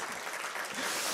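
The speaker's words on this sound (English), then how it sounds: "can we have a round of applause for our programme committee and programme committee chairs" Brief burst of audience applause at a transparency technology summit, steady and moderately faint clapping from a crowd.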